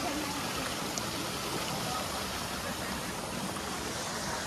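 Cold stream water flowing steadily, a broad constant rush with no breaks, heard close and alone.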